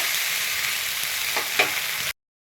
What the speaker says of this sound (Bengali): এবারে আমি দেব মৌরি বাটা, অনেকটা মৌরি বাটা। এবারে একটু নেড়ে নেব।